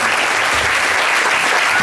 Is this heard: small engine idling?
no